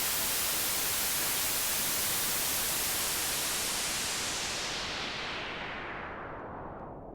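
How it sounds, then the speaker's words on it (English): Loud, steady hiss of broadband noise whose bright top end is gradually cut away over the final seconds, leaving a duller, muffled rush. "This is a low pass filter, and this is what it does to a sound."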